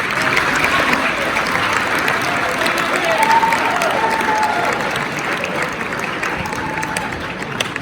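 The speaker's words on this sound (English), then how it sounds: "You can clap on that." A crowd at a high school dance team celebration for a third-place state finish claps and cheers in a loud, sustained wash of applause with a few shouts rising above it, holding steady throughout.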